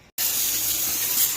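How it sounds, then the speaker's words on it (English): Steady hose spray washing dust off a John Deere 8300 tractor, a continuous close hiss of water that starts abruptly after a brief gap and holds level throughout. "I'm just going to use the hose and spray some of the dust off"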